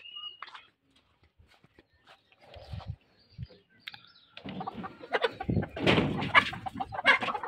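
Layer hens cluck and squawk inside a poultry shed, with sparse calls at first that build into a loud, busy chorus of overlapping clucks near the end.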